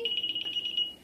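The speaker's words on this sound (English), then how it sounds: "now it's like gonna start beeping" A home alarm system that has just been set gives a rapid series of about eight high, even electronic beeps, close and clear, then stops.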